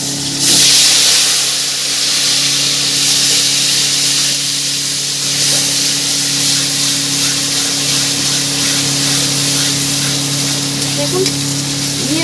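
Onion and garlic paste hits hot oil for a Bengali tangra fish tel jhal, giving a loud, steady close sizzle and hiss that runs unbroken for the whole stretch, with occasional faint stirring scrapes.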